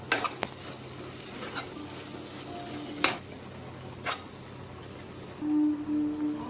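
Garlic-chilli paste with onions fries in a pan for egg curry, a soft steady sizzle punctuated by a few sharp spoon scrapes and clinks against the pan.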